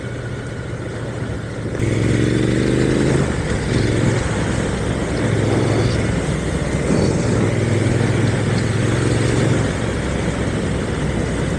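A motorcycle engine rumbles steadily nearby, its note rising and falling as the throttle shifts, with no talking over it.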